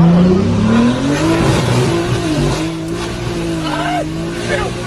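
A 1200-horsepower car launches and drifts with a loud, sustained engine roar whose pitch climbs and wavers, heard from inside the cabin as people talk over it.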